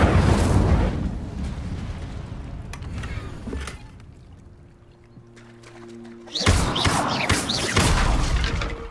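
An Incendio fire spell bursts out in Hogwarts Legacy with a loud roaring whoosh, fading into quiet, then a second forceful blast erupts near the end.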